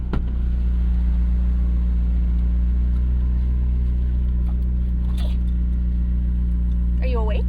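A McLaren 750S with a twin-turbo V8 drones steadily from inside the cabin, a loud low rumble under the occupants' voices as it accelerates.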